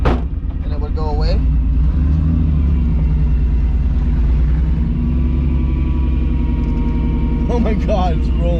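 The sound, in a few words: misfiring 1MZ engine of MR2 Spyder with new exhaust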